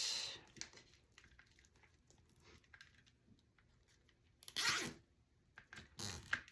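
Plastic zip tie ratcheting tight on a handmade Christmas wreath built on a Dollar Tree frame, heard as a few close, brief rasping zips between quiet handling noises.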